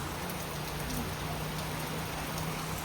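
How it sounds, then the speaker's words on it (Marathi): Heavy rain falling outdoors, a dense, steady patter of drops on surfaces that stays even and moderately loud throughout with no voices. "मस्त पाऊस येतोय आज."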